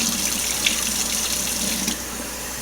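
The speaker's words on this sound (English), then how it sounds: "A little more water. Rinse it, swirl it." Water from a tap running into a jar of sprouting seeds as they are rinsed and swirled, a steady close rushing splash that shifts slightly in tone near the end.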